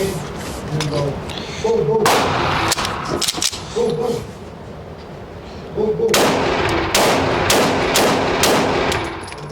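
Handgun shots from a carry pistol fitted with an Osight SE red dot sight crack out close and loud in two rapid strings of several rounds, separated by a brief pause.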